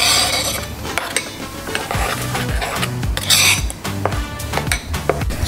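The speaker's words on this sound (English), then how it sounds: "Stir it for it to mix well." A utensil stirs pepper and blended tomatoes in a pot for Ghanaian okro soup made without palm oil, giving repeated metallic clinks and scrapes against the pot over a soft sizzle, with no talking.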